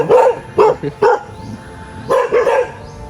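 Several dogs bark in short bursts, a quick cluster of yaps, a pause, then another run of barks, fairly close and loud.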